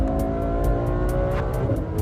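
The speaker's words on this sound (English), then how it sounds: "This is the latest, most radical of all the Ferrari front-engine V12 touring cars." A Ferrari F12 Berlinetta, a front-engine V12 touring car, drives with a loud, steady engine drone and strong harmonic tone, close and continuous without voices.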